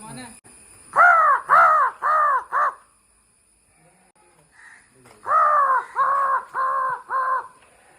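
Harsh crow caws come in two bursts, four loud calls in a steady rhythm, a pause of quiet, then four more close by.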